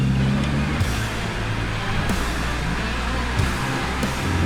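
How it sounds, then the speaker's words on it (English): A BYD Shark plug-in hybrid 4WD, tyres at low pressure, crawls slowly up a rocky black-rated track in low range, giving a steady low vehicle rumble with faint creaks and knocks throughout. "We're in low range. We're just crawling nice and easy."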